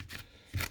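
Scissors snip through heat shield wrap that has been trimmed down to fit around an oil pressure sensor, a single short, close cut heard alone.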